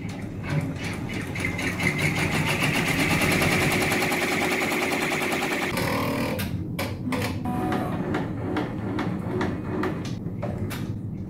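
Embroidery machine stitching a flipped multi-hoop design, a fast mechanical rattle of needle strokes running steadily, then shifting to intermittent bursts with short pauses between stitch runs.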